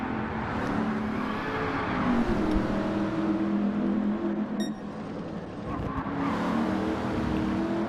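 Race cars in a sim racing league event drive steadily throughout, a continuous engine drone with shifting revs and a brief tire squeal, sitting close and loud with no talk over it.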